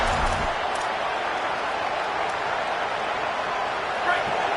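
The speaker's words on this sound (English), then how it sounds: "The crowd getting behind this defense as they try to get a stop in the red zone" A dense, steady roar from a football stadium crowd cheering on the defense during a red-zone stand, loud and continuous throughout with no pauses.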